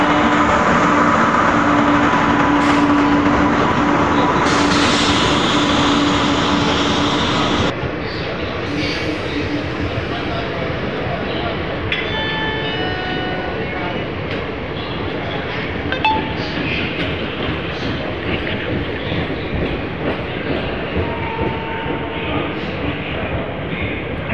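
The Visakhapatnam–Amritsar express rolls through Mathura Junction, a loud sustained rumble of wheels and carriages with metallic clinks and rattles, a station announcement voice heard over it early on.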